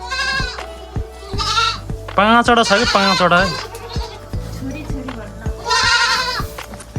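Goats bleating on a village farm, several clear repeated bleats near and loud, mixed with talk from people nearby and a steady low hum.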